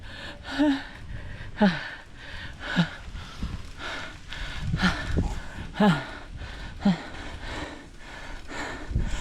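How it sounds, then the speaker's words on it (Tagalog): Heavy, labored breathing from hiking uphill, with repeated sharp gasps roughly every second, close and loud, steady rhythm of exhausted panting. "Grabe na hingal ko."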